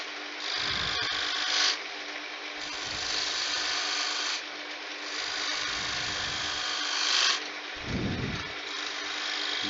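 A spindle gouge cuts a V groove into a wooden candlestick spinning on a lathe, a steady motor whir overlaid with bursts of bright, hissing cutting noise that come and go in several passes, with low thumps between them.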